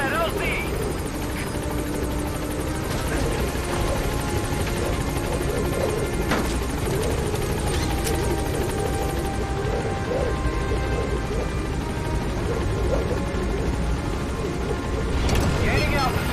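A military helicopter in Metal Gear Solid V thunders in toward a landing zone, its rotor roar loud and constant throughout, with a radio voice talking over it.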